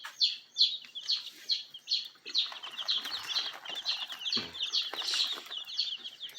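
Rhode Island Red and Marans chicks peep in a brooder, a rapid run of high, bright chirps repeating one after another, fairly close and continuous.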